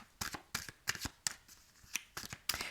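Tarot cards shuffled by hand for a reading, heard as quiet close riffling bursts in an uneven rhythm of about eight quick shuffles.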